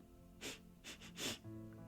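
A person gives a piece of fruit a few quick, close sniffs: three short breathy bursts in a row, the middle one doubled, then quiet.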